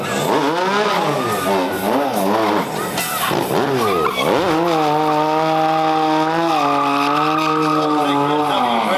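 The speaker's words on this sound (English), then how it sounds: "He's got that rear tire smoking." BMW stunt motorcycle revving hard with its rear tire smoking, the engine loud and close, pitch climbing and dipping in rapid throttle blips before holding a sustained high-rev whine.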